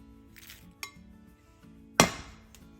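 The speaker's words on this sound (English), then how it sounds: "Now I will transfer these also to the bowl." Dried curry leaves are tipped into a bowl in a kitchen, with a soft rustle followed by a couple of sharp clinks against the dish, the second one louder, close and quiet overall.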